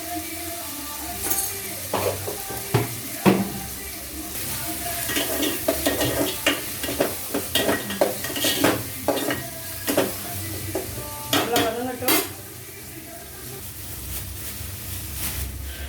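Green chillies sauté in a pan for home-made chicken curry, with a steady oily sizzle under repeated scrapes and clinks of a spoon stirring against the metal, close and busy throughout.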